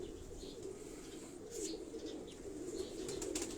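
A pigeon on a rooftop coos in a low, soft, continuous murmur, with brief flutters of wings flapping nearby over faint background noise.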